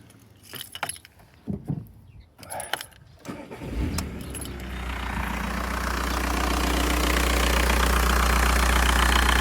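A Skoda Octavia engine turns over and settles into a steady, loud idle after a few seconds of jangling keys and handling noises.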